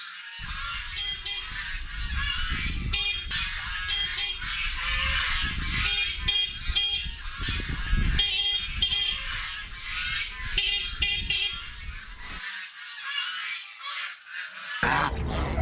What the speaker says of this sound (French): C'est vraiment un groupe d'oies timides.